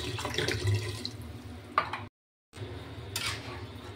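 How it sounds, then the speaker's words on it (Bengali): Water poured into moong dal with bottle gourd in a pot, a steady splashing rush that stops abruptly partway through, then resumes more softly with a brief clink. "এবার আমি জল দিয়ে দেবো, পরিমাণ মতো জল দিয়ে 2টো সিটি দিয়ে নামিয়ে নেব।"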